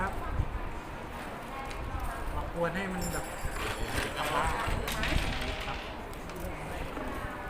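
Horses trot with hooves clip-clopping at a gathering in Thailand, irregular hoof knocks mixed with crowd noise and heard under near continuous talking.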